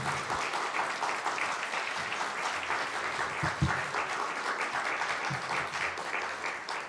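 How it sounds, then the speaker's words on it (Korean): Sustained applause fills a Korean Methodist church's Sunday service as the congregation welcomes the center director to the pulpit, a steady dense wash of many hands clapping at moderate distance with no talk over it. "우리 센터장님 나오실 때 우리 박수로 함께 환영하며 말씀 듣겠습니다."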